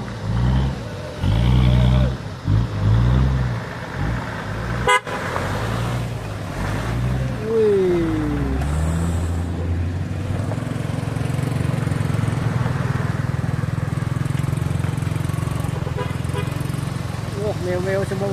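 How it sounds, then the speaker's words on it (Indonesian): Cars pass by one after another on a road under repair at Batu Jomba, with engines rumbling close and loud and a steady motor drone. Someone talks over the traffic noise. "Mobil lewat semua bosku ya."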